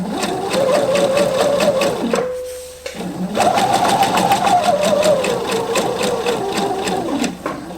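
A sewing machine stitches a lining in a steady, fast mechanical whir. It pauses briefly midway, then resumes running close and loud, with no voices.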